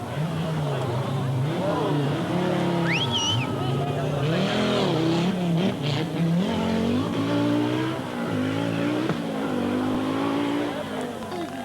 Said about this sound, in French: L'Allemand Demut démontre ici à ses dépens que l'Audi Quattro est quand même un sacré gros camion à piloter.